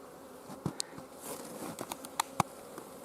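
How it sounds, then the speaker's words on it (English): Bees buzz around outdoors on a January afternoon, faint overlapping drones with a few closer passes rising briefly above a steady low background hum. "Not as many bees out here flying around either."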